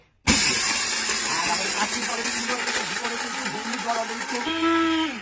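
A small electric spice grinder pulverizes hard chickpeas into fine powder: a loud, steady whirring grind that starts abruptly and runs continuously for about five seconds, shifting to a lower hum near the end.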